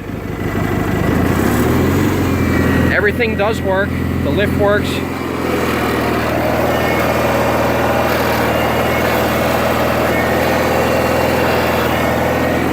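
A Cub Cadet 1811 garden tractor engine runs continuously with a steady low rumble, while someone talks over it early on.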